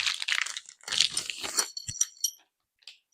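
A box cutter knife slices through a plastic tie wrap during unboxing of a powered backpack sprayer, giving short crisp scraping and crunching sounds close up, ending with a small snap and brief rustle.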